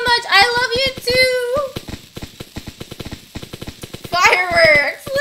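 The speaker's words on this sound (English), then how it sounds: "Fireworks" Fireworks in the Roblox game Brookhaven RP go off as rapid, crackling pops in a steady stream, with a young voice talking over the start and end.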